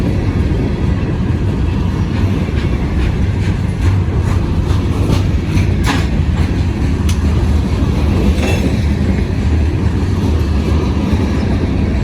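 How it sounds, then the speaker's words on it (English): A westbound train, including a big high-and-wide load, crosses a trestle above the city at Kenova, WV, rumbling loudly and steadily from start to end, with wheel clatter, metallic squeals and a dense low roar. "I see the end of the train already."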